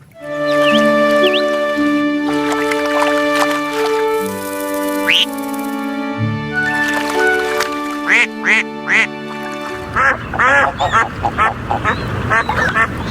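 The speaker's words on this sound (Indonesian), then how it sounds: "Ada bebek." A run of quick, nasal duck quacks, close and fairly loud, follows a stretch of bright, toy-like electronic music with sustained tones.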